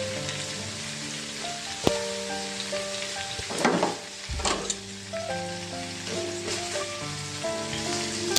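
Chicken steam-roasting over a slow flame crackles with steady sizzling and popping, a few sharp clinks and a brief clatter of stirring partway through, close and continuous with a faint background tone.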